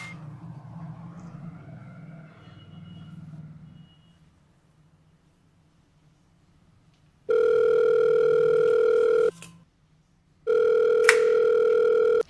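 A phone call rings out after dialing: two long, steady electronic ringback tones sound near and clear, separated by a short gap, following a stretch of low background hum and near-silence.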